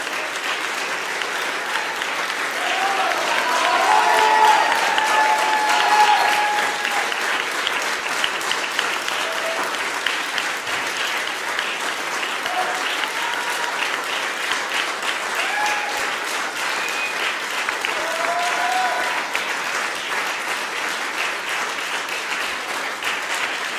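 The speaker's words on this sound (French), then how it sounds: "Devant ces applaudissements" Sustained applause from a large audience at a French ministerial handover ceremony, dense and steady clapping that swells slightly midway and continues for the whole stretch with a faint murmur of voices underneath.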